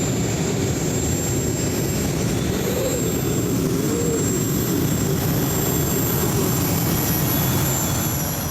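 The Whispering Giant, a jet-engined pulling tractor at a European tractor pulling championship in Norway, gives off a loud, continuous turbine roar with a high whine riding on top, steady and unbroken throughout.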